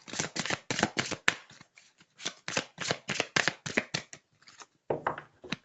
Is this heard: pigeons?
no